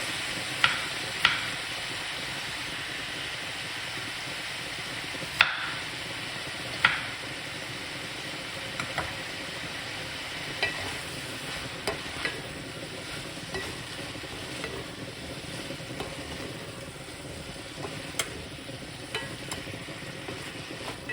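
Carrots and green beans being stirred in a hot pan for a vegan dish, a steady sizzle and fry with scattered scraping clicks and taps of the utensil against the pan.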